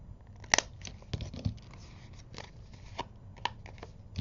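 Old scissors snip repeatedly at close range, several crisp cuts spaced irregularly with a rustle of material between them.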